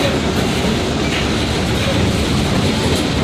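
A train rolls along with a constant loud roar and rattling, heard from inside the carriage, wheels clacking faintly beneath the dense steady noise.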